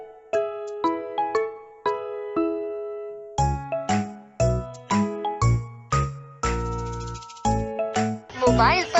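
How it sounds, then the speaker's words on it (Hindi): A mobile phone rings with a bright, tinkling melodic ringtone, a series of chiming notes repeating in phrases, clear and close with no talk over it. "उसका फोन बजा।"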